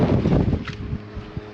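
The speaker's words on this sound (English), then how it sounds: "It's pretty windy here." Strong gusts of wind roar and buffet a microphone at an outdoor roadside stop in Ouyen, a steady rumbling rush that eases slightly toward the end, with no voices.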